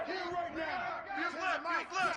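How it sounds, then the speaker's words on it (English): Football stadium crowd during a Georgia vs Ohio State game roaring and chanting at third and goal, a loud, surging wall of massed voices rising and falling in waves. "this defense feeling energy from the crowd"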